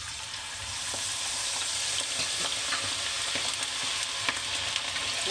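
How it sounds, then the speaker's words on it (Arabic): Diced potatoes frying in hot oil, a steady crackling sizzle that holds evenly throughout, with faint pops and light stirring taps close by. "واقليها عادي كاني بقلي بطاطس عادي."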